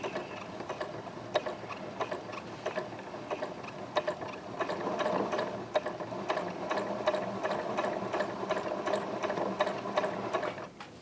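A sewing machine stitches binding onto a T-shirt neckline in quick, rhythmic mechanical ticking bursts. The stitching runs closely and continuously, pausing briefly now and then, with no talking.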